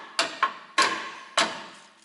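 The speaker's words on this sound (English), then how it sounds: "Actually gotta hammer up on this bolt a little bit." Three sharp metallic hammer blows on a bolt during rear strut replacement on a 2004 Ford Explorer 4X4, with a lighter tap after the first, each strike ringing briefly and loud up close.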